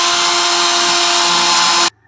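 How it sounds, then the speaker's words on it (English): A power drill whines steadily at high speed as it bores a hole during a water heater installation in a house, loud and close, then stops abruptly near the end. "If I drill a hole there, that should clear it"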